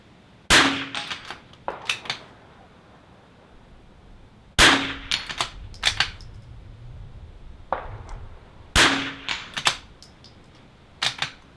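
.22 rifle shots ring out on an NRL22 match stage, three sharp cracks a few seconds apart. Each is followed by clanging steel-target hits and small clicks and clatter from the shooter handling the gun.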